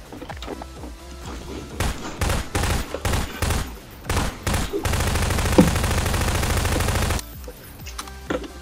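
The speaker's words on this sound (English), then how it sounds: "I can hear gunshots." Rapid gunfire from the video game Garry's Mod Prop Hunt, loud bursts of shots and a sustained stretch of continuous automatic fire, with scattered single shots before and after.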